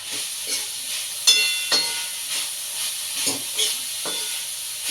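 Turmeric sizzling in hot oil in a pan while sprouted moth beans cook, a steady bright hiss with a few louder spoon-stirring bursts, close and with no voices.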